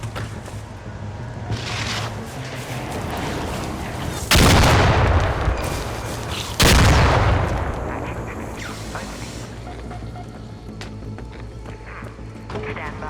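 Rockets fire and explode during an ARC Raiders video game match, with two loud, sharp blasts a couple of seconds apart over a dense, busy backdrop of game noise and voices talking.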